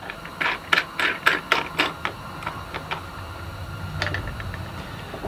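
Lock washer and lock nut threaded onto a bolt while assembling a Granberg MK-IV Alaskan chainsaw mill, giving a run of close, sharp metallic clicks and ratcheting ticks that come fast at first, then spread out and fade.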